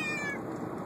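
A person imitates a cat's meow in one short, close, drawn-out whine that falls in pitch.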